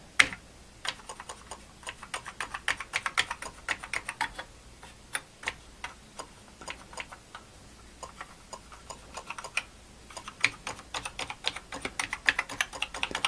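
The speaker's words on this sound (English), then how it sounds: "let's use the keyboard off of my machine that does work and see if all the keys work" Keys clatter on a working Atari 800XL computer keyboard swapped onto another machine, a steady run of close, crisp clicks in quick bursts with short pauses, no talking.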